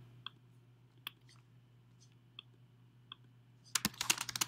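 Keystrokes on a computer keyboard come as sparse, isolated taps at first, then break into a quick, dense run of typing at the end, close and clear over a low steady hum with no talking.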